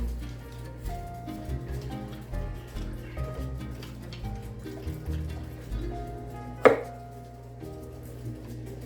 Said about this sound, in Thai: จะหั่นคะน้านะคะ